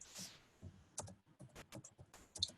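A few crisp computer mouse clicks and light desk taps, close and quiet, spaced irregularly with no talking over them.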